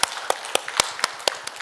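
A church congregation at a Wednesday worship service claps in steady unison, sharp distinct claps repeating about every quarter second, clear and close with no talking.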